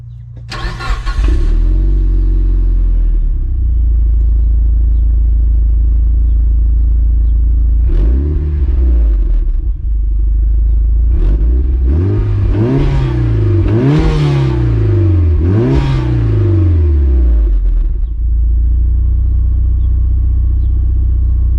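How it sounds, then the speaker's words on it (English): A Mitsubishi Evo on its stock exhaust cranks and fires up, settles into a loud idle, then is revved in several rising and falling blips before idling again, with no talking. "I'm gonna show you guys what the stock exhaust sounds like"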